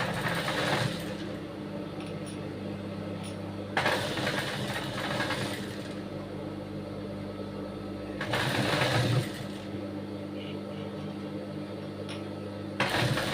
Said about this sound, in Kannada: ಈ ರೀತಿ ಫ್ಯಾಬ್ರಿಕ್ ಅಟ್ಯಾಚ್ ಮಾಡಿಕೊಂಡು ಇಲ್ಲಿ ಒಂದು ಸ್ಟಿಚ್ನ ಹಾಕ್ಕೊಳ್ತಾ ಇದ್ದೀನಿ